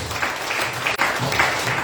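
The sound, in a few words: congregation applause in church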